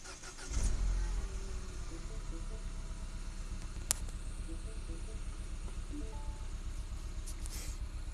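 A 2012 Mini Cooper S Countryman engine, just after a PCV membrane replacement, starts up and settles into a steady low idle heard from inside the cabin, with a couple of faint clicks.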